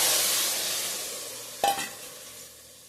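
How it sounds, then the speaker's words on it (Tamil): Drumstick, brinjal and potato sauté in a pan, making a steady close sizzle that slowly fades, with one brief scrape of stirring partway through. "முருங்கைக்காய், கத்திரிக்காய், உருளைக்கிழங்கு போட்டு வதக்கின்னு இருக்கேன் பாருங்கள்"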